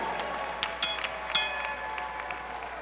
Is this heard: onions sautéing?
no